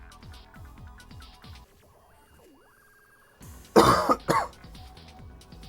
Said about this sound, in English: And there's that lovely cough again.